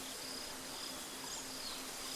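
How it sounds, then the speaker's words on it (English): Night ambience in a game world with steady cicada and insect chirring, a continuous high buzzing bed at low, even level with no voices. "And that changes the sound too. You can hear like cicadas now."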